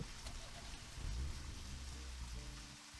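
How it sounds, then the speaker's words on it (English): Rain in the video game Deadly Premonition falls as a faint, continuous hiss, with a brief low rumble partway through, all quiet and without talk. "And it's starting to rain."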